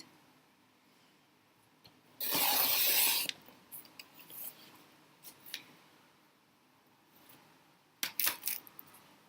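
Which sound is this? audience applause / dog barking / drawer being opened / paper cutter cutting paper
paper cutter cutting paper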